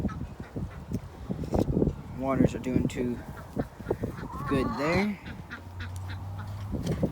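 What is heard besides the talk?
ducks quacking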